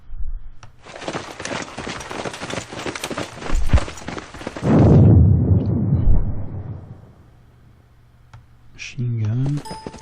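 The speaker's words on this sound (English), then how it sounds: "Machine gun." Rapid machine gun fire in a war strategy game battle at Somosierra Pass, a sustained crackling burst followed by a heavy rumbling boom, then quieter and a short tonal game cue.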